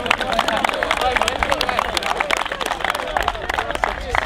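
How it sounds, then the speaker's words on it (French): A crowd at a football tournament in Arles applauds its elected officials, giving steady, dense clapping that goes on throughout with a little crowd murmur beneath it. "On peut applaudir très fort nos élus."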